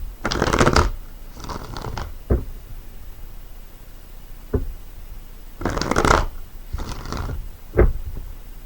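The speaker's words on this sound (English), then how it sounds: "let's go ahead and pull 2 more cards to complete this reading for you," Tarot cards are riffled and shuffled close up in several loud bursts, each followed by a soft tap as the deck is squared, with quiet pauses between.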